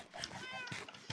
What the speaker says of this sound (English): I also keep a cat here in case like creeper come or something.